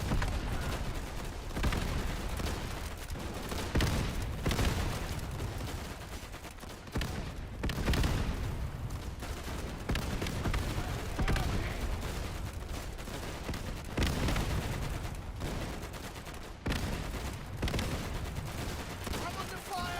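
Rifle and machine-gun fire in the World War II shooter Easy Red 2 crackles in dense overlapping bursts, near and distant, for a sustained stretch with a player's voice talking over it at times.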